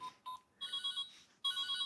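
An electronic telephone rings in short, bright, warbling bursts with gaps between them, heard up close and without speech.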